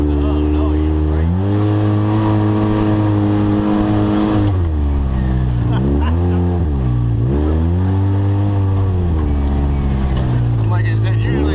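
An off-road vehicle engine pulls hard in low gear along a trail, its loud, close drone dipping and climbing in pitch as the throttle changes.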